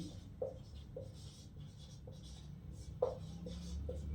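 Chalk or marker writing a table on a board during a lesson, a series of soft scratchy strokes with light taps, fairly faint over a steady room hum.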